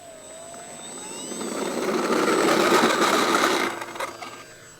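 An FMS Sky Trainer 182 electric RC airplane with a 1400mm wingspan flies past. Its motor whine swells as it nears, peaks, then fades over a few seconds.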